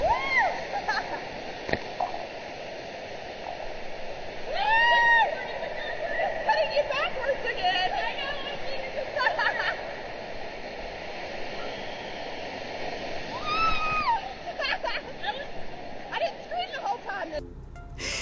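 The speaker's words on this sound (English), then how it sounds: "this awesome water slide my daughter and I went on over and over again" Rushing water splashes continuously along an indoor water park slide at Great Wolf Lodge in LaGrange, Georgia, with excited shouts and squeals rising over the flow now and then and a sudden splash near the end.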